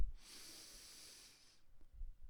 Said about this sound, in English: you want to simulate the breathing sound of Darth Vader during this